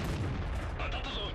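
The main gun of an STA-1 tank in World of Tanks fires a single deep, booming shot that rolls into a ringing, metallic tail against a steady rumble of battle.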